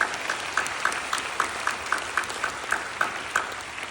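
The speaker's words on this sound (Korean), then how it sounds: "우리 다음 차세대에게 한번 박수 한번 크게 한번 해주세요." Applause from a church congregation at a summer retreat service, a steady rhythm of claps repeating roughly every third of a second, moderately loud and fairly even throughout.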